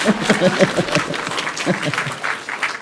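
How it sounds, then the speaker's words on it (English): An audience at a Buddhist lecture on the Shurangama Sutra claps, someone speaking over the start before the scattered clapping carries on alone for a few seconds. "When I praise you, you clap, eh?"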